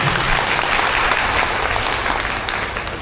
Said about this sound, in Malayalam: ഒരു കയ്യടി കൊടുക്കാം